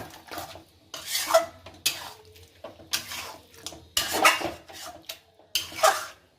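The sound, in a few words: stirring and frying mutton with spices in a pot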